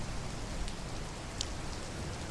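Steady rain during a storm patters continuously on a surface, a dense even hiss with occasional louder drops, no voices.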